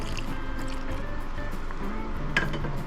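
Water pours into okoy batter in a bowl, a soft continuous trickle and splash close by, followed by a brief wet slosh near the end.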